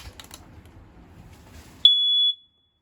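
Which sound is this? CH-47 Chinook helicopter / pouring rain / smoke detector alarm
smoke detector alarm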